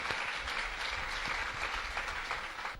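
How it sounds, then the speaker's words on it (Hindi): An audience applauds to welcome the writer of a serial at an event in Haridwar, a sustained, even wash of many hands clapping, moderately distant and heard without talk. "इनका तालियों से आप स्वागत कीजिए"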